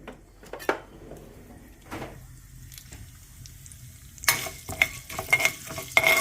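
Food frying in a pan on a home stove, quiet stirring scrapes at first, then a sudden loud crackling sizzle with spatula knocks in the final seconds.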